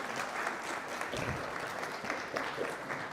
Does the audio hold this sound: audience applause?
yes